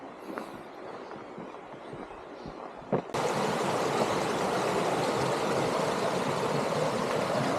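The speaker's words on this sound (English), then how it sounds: "Still hear the river down below." A river flows below a mossy forest path on the Camino de Santiago, first as a faint distant rush with a few footstep sounds, then a louder, steady broadband rush of water for the rest of the clip.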